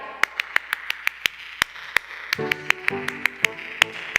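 An audience claps in a West Side Story style, sharp evenly spaced single claps in a steady rhythm, with a sung or hummed voice joining partway through.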